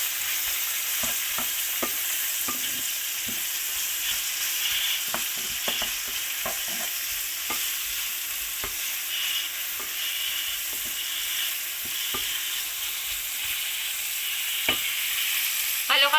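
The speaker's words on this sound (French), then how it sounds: "on caramélise un petit peu les oignons" Onions caramelizing in a pan for a lemon confit tajine sizzle steadily throughout, with frequent soft scraping taps from stirring, close and alone with no talk.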